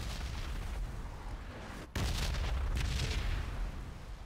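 Airstrike bombs explode in a PUBG match on Xbox One, a dense, continuous rumble of booms and blasts that swells louder partway through and keeps rolling without any talk.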